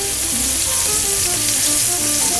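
Fresh foie gras escalopes, four at a time, sear in a hot pan, a loud, close, unbroken sizzle that fills the whole moment.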